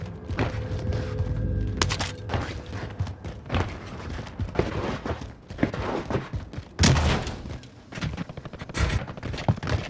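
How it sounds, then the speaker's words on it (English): Bursts of automatic rifle fire and scattered gunshots ring out in a Warzone match, loud and close with irregular rhythm, mixed with thuds, footsteps and mechanical clatter between volleys. "Are you getting shot at?"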